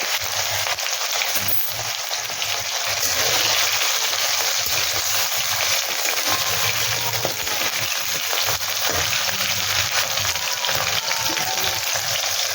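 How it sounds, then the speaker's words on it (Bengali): Potatoes fry in a pan in a dense, continuous hiss of hot oil, loud and close, with no voices over the steady sizzle. "এখন আলুটা আগে ভাজা হোক একটু"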